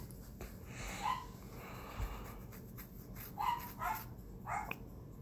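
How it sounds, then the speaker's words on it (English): A dog gives a few short barks in a street where police are present at a red light, fairly faint and spaced over a few seconds above steady background noise. "it's hilarious when the dog started barking."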